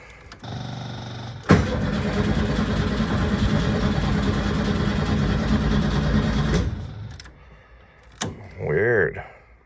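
A 1972 VW Super Beetle engine cranks, catches and runs loudly for several seconds before cutting out, followed by a second short burst; no fuel or starting problem is obvious, and a voice speaks near the end.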